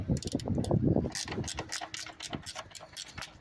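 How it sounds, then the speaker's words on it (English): A ratchet backs out 14 mm nuts on a Toyota Corolla front strut, making a fast run of close, rhythmic clicking, dense at first and then thinning into scattered ticks. "we're going to continue to drop out our 14 millimeter nuts right here"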